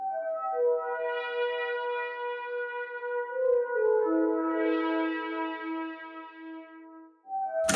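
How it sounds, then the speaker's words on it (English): A little jingle-like background synth from a song in Shrimp Game plays clear, bell-like sustained tones that shift pitch. It stands alone, steady and fairly loud, with a brief cut at the end. "there is this little background synth that comes up here and there"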